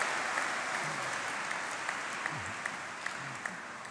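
A large hall of graduands and guests at a summer graduation ceremony breaks into sustained, dense applause with some cheering, a broad even roar of clapping that holds for the full stretch.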